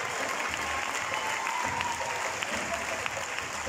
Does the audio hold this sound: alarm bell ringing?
no